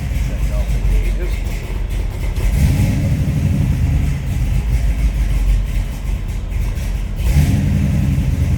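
A cold 1968 Chevrolet Camaro with a 454 V8 warms up on choke, giving a loud, close, steady low rumble with a couple of brief surges in engine speed.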